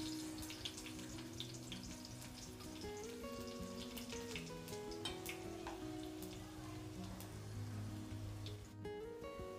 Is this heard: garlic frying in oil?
yes